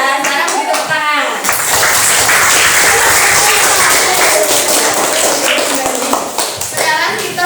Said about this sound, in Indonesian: sekarang beri tepuk tangan